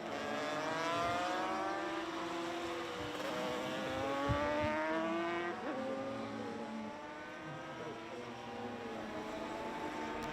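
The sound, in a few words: racing motorcycles at the Imatranajo ICGP road race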